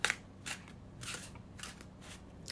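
Tarot cards shuffled by hand, a few faint papery riffles and soft slides in short bursts, close and quiet with no talking.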